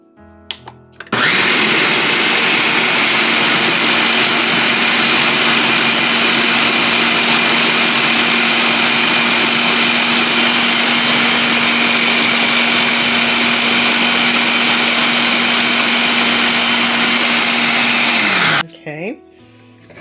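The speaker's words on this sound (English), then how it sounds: "And now we're going to blend this up" A blender purees broccoli and cheddar soup, whirring at a loud, steady pitch for about seventeen seconds after a brief start-up, then spinning down and stopping.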